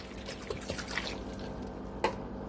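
Apple juice from 8-ounce bottles is poured into the bottom of a slow cooker for a honey apple pork loin, giving a soft trickle with scattered drips and small splashes, close by and fairly quiet.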